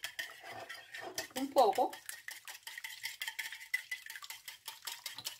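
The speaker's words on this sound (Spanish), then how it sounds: "Nuestra azúcar, nuestras 2 cucharadas de azúcar. Vamos a revolver" A spoon clinks and scrapes against a bowl while two tablespoons of sugar are stirred for Greek yogurt fritters, with quick light rhythmic taps and a louder clatter midway under soft talk.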